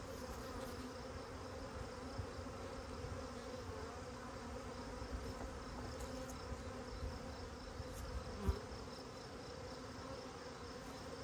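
Honey bees from a freshly installed package swarm around a new hive, giving a steady, dense buzzing drone throughout with no talking.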